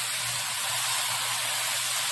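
Bacon strips sizzle in a frying pan as a steady, bright hiss that holds evenly from start to finish, close and fairly loud, with no talking.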